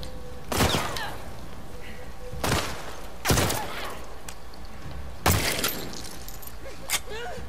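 Gunshots from a hunting pistol in The Last of Us Part II, four loud, separate single blasts spaced a second or two apart, each with a sharp crack and short decay, with a faint fifth shot near the end.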